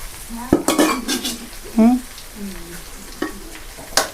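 Food fries in coconut oil while a spatula stirs it in a pan, giving soft sizzling broken by a few sharp metallic scrapes and clinks, close by, with a voice briefly heard.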